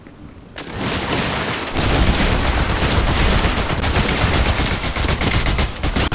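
Dense bursts of Fortnite gunfire, rapid overlapping shots and booms that start after a quiet moment and stay loud and continuous, with a brief voiced exclamation near the start.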